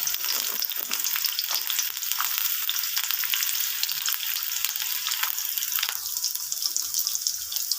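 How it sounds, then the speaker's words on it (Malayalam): Sliced onions frying in hot coconut oil, a steady dense crackling sizzle that holds evenly throughout, close and loud, with no voices. "എണ്ണ ചൂടായി വരുമ്പോൾ എടുത്ത് വെച്ചിരിക്കുന്ന സവാള ഇട്ട് കൊടുക്കാം"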